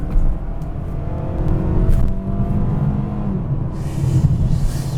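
A 2019 Mazda CX-5 with the non-turbo engine accelerates on a concrete road. Its engine gives a steady, moderately loud drone under constant road rumble and slowly builds in pitch, with no talking.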